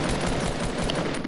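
Rapid automatic gunfire in a duo-mode video game match: a dense, loud, continuous burst of shots lasting just over a second, with no talking over it.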